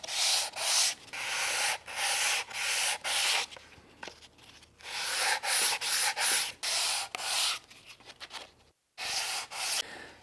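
Wooden door rails rubbed with a sanding block, close rhythmic bursts of gritty scraping strokes with short pauses between, steady back-and-forth pace.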